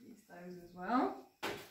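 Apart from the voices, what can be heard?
None of the usual background noises is heard.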